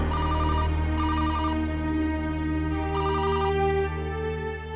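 Several short electronic telephone ring bursts repeat at a steady rhythm over a held background music tone, with no one speaking.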